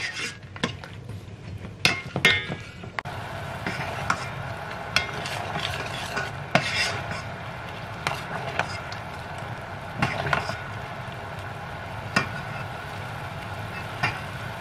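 Sugar being stirred into Thai pad thai sauce in a pot, with repeated scraping and clinking of a utensil against the pot, close and fairly steady, over a soft simmering hiss.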